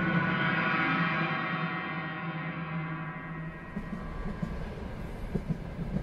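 A train runs steadily as a sound effect in a Bengali audio drama, a continuous rumbling roar that fades slightly, then gives way to rougher clattering bumps toward the end, with no voices over it.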